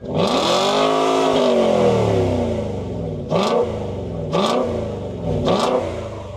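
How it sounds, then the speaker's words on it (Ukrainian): A Volvo car's engine revs hard on a cold start, a long rising and falling roar followed by three short, sharp blips of the throttle, loud and close with no voices. "Ну і важливо кожного ранку чути холодний пуск."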